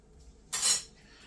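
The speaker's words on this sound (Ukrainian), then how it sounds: "Тепер все це ми розмішуємо." A spoon stirring a carp shashlik marinade of sour cream, mayonnaise and basil in a dish, heard as one brief metallic scrape and clink close up in an otherwise quiet kitchen.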